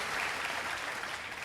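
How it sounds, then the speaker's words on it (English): Crowd at a Kamala Harris campaign event breaking into sustained applause, a broad, steady wash of clapping that holds level throughout without a break. "And we should applaud their courage."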